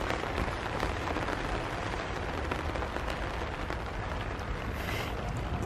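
Steady rain drums on a tent without pause, a dense, even patter from close by with no talk over it.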